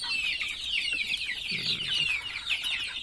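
Free-range village chickens cluck steadily and fairly close by in their coop, a busy overlapping chatter of hens and chicks with no pauses.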